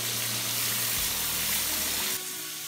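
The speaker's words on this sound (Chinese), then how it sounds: "倒水大锅边上" Water poured along the edge of a big wok during village-style cooking of a bean and Sichuan pepper sauce, a loud close rushing gush that hisses steadily, then eases into a quieter simmer near the end, no talking.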